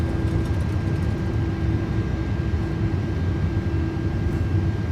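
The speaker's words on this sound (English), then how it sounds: "Reversers are out, decelerating." Simulated Airbus A330 thrust reversers roaring during landing rollout in MSFS 2024 at JFK, a steady, loud broadband rumble with a sustained low tonal hum, continuous throughout with no talk.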